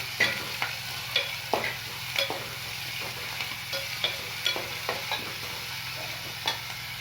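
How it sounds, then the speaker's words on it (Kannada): Onions frying with mustard seeds and cumin in a pan for madike kaalu palya, a steady close sizzle punctuated by a dozen or so sharp scraping stirs of a spatula at irregular intervals. "ಈರುಳ್ಳಿ ಫ್ರೈ ಮಾಡೋಕೆ ಹಾಕ್ಕೊಂಡಿದ್ದೀನಿ"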